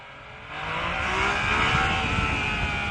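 A Yamaha MT-09 Tracer motorcycle engine revs and pulls hard, the rising roar swelling after half a second into a loud, steady high-rpm drone that carries to the end.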